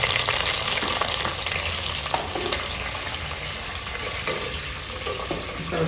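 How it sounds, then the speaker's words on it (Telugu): Fenugreek, mustard and cumin seeds frying in hot oil in a pan, a loud, steady crackling sizzle with small pops and stirring, close up and heard alone. "కొంచెం ఆవాలు, కొంచెం జీలకర్ర. ఇవి బాగా వేగనిద్దామండి."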